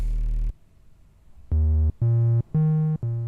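Moog Matriarch synthesizer playing a clean triangle wave in a higher register: four sustained, evenly spaced notes stepping upward and back, each with a clear, pure tone and short gaps, alone after a brief low tail at the start.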